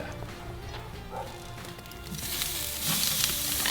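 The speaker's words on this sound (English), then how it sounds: "Look at that caramelization, the sizzle, the collagen breaking down, turning into gelatin" A roast sizzles in a hot pan as its fat renders, a soft crackling hiss that grows louder and brighter toward the end, heard close with no talk.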